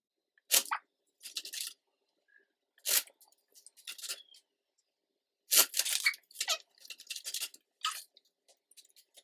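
Bursts of papery riffling and soft slapping as a tarot deck is shuffled, in irregular clusters separated by brief pauses of silence.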